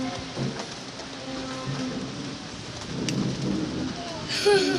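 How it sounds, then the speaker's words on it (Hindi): Rain falls steadily during a storm with lightning, a constant soft hiss with low rumbling swells and faint background voices, growing slightly louder toward the end. "यहाँ पे बारिश आ रही है।"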